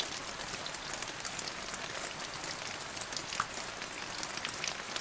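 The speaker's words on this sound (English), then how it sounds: "It was a rainy day." Steady rain falls as a dense, even patter of drops across the whole stretch, moderately loud and close, with no voices over it.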